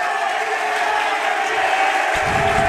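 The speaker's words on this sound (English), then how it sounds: "The crowd's loving that one" An ice hockey crowd at a high school boys' playoff game in an arena roars for a big hit, a broad, sustained wash of cheering that swells near the end.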